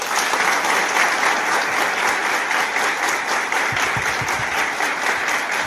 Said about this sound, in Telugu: చూపించండి మీ చప్పట్ల యొక్క మోత